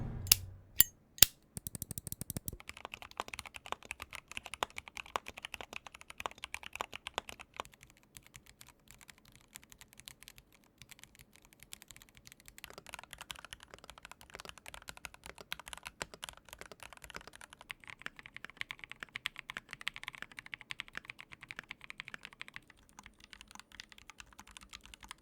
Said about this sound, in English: to make it easier to compare the sound of each keyboard